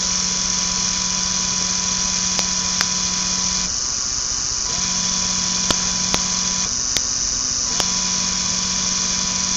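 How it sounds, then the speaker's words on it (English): A small fischertechnik hydraulics model motor runs steadily with a constant mechanical whine and hum, its tone shifting slightly at a few points, with several faint clicks along the way and no one talking. "And right now the motor is running."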